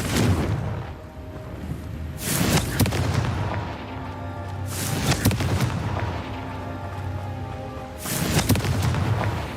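A Confringo fire spell explodes in Hogwarts Legacy, three loud booming blasts a few seconds apart, each with a sharp burst and a rumbling tail, with no talk.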